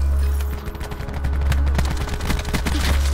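Rapid gunfire from a weapon in the Black Ops 4 video game, with dense bursts of shots rattling over a deep, heavy low rumble for the whole stretch, loud and close, with no talk.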